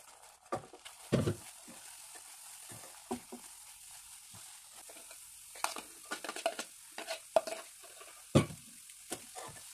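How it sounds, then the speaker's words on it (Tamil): A dry mixture of powdered poha, peanuts and coconut is stirred in a pan, with soft, scattered scraping and tapping of the spoon against the pan, fairly quiet and close. "இப்போ நம்ம ஏற்கனவே பவுடர் பண்ணி வச்சுருக்கிற அவலும் வேர்க்கடலையும் தேங்காயும் நம்ம நல்லா மிக்ஸ் பண்ணிக்கலாம்"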